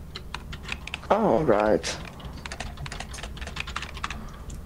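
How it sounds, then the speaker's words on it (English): Rapid computer-keyboard typing clicks in a Lethal Company game session, steady clusters of keystrokes throughout, briefly interrupted by a man's spoken remark. "He's typing, man. Look at this guy type."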